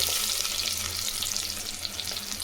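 Onion added to hot oil with popped mustard seeds sizzles and fries in a pan for a Chettinad mutton curry, a steady bright crackling hiss close up with no talking.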